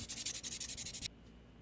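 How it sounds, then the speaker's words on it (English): Close, rapid scratchy strokes of sandpaper on a plastic light switch cover rub back and forth in a quick rhythm for about a second, then stop abruptly. "Right here I'm sanding it, getting it ready for some super glue."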